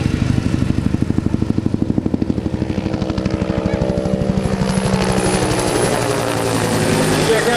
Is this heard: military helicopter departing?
yes